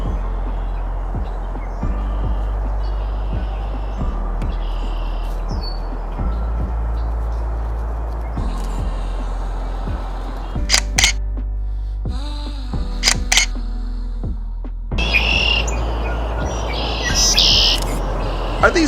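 Birds, including a red-winged blackbird, call at North Pond by Montrose Harbor in the city: scattered chirps and short trills over a steady low outdoor rumble, with a few sharp clicks near the end.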